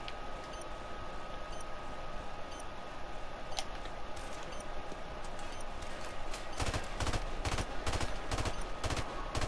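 Gunfire in a Modern Warfare Remastered team deathmatch, a steady stream of distant rapid shots through the first half, then louder, denser bursts of close automatic fire toward the end, with no talk.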